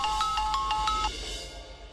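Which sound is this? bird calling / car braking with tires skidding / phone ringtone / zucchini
phone ringtone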